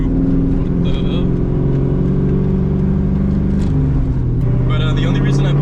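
A straight-piped 2003 Ford Mustang GT V8 rumbles and revs continuously while driving, loud and close from inside the car, with the engine note rising and falling throughout.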